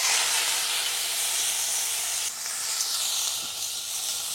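Crab and shrimp dropped into hot oil with cumin and garlic give a continuous, loud, close hiss and sizzle that holds steady throughout with slight dips.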